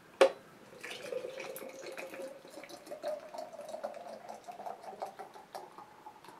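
A sharp pop as a can of Southern Tier nitro imperial milk stout opens, then a steady fizzing, gurgling pour into a glass, bubbling and crackling continuously close by.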